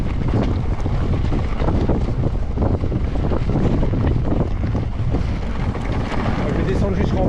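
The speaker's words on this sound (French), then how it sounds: "Pour une fois, il y a du vent." Steady, heavy wind roaring and buffeting the microphone throughout, with a constant low rumble and gusty texture.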